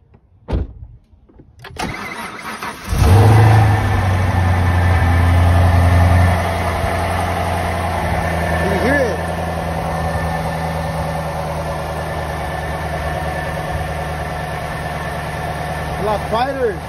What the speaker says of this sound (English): So we're gonna turn on the car and see how it sounds.